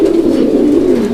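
Fancy pigeons at a pigeon seller's coop give a steady, close, loud cooing that runs continuously with no talk.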